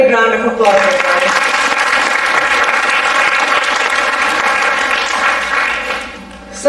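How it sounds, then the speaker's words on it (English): Audience applause at an Indian classical dance arangetram recital, a steady dense wash of clapping lasting several seconds at full strength before tapering slightly near the end. "let's give her a big round of applause, everybody"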